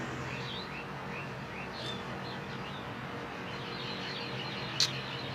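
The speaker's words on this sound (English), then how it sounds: "I could hear birds chirping." Small birds chirp and tweet at a distance on an early morning around eight o'clock outdoors, a few thin calls scattered over a soft steady background hiss.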